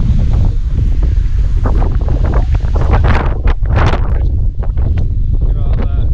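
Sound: wind at the beach

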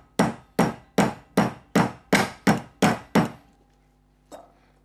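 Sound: pounding kebab barg meat with a cleaver

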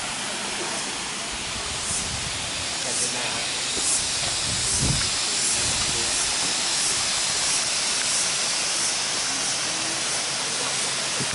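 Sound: Phiang Din waterfall at Nong Hin, Loei, flowing water

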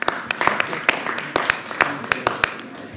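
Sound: audience applause at municipal council meeting

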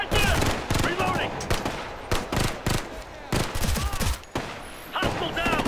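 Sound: light machine gun fire in Ghost Recon Future Soldier video game

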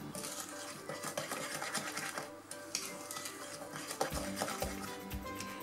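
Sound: mixing ingredients in a bowl with a spoon

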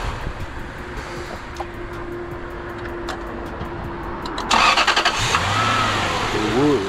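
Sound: 1979 Chevrolet Caprice LT-swapped engine cranking over

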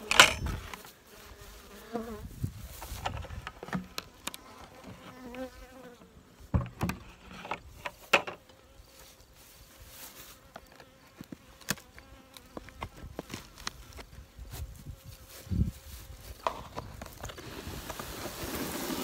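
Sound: buzzing honeybees from colonies

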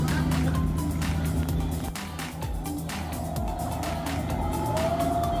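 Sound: jet boat speeding up on the sea

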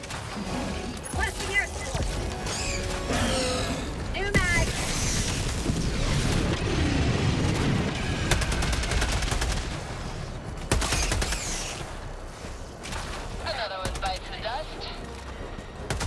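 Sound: strafing run airstrike in video game Helldivers 2

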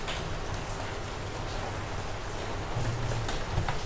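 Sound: rain falling in Bangkok

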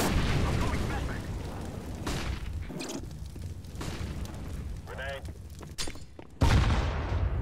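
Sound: rapid gunfire in a video game

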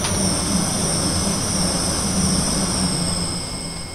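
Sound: Class 180 train passing in Train Simulator 2020 video game

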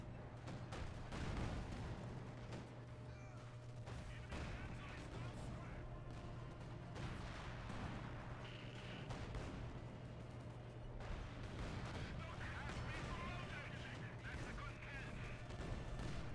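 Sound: artillery barrage in the video game Company of Heroes 2

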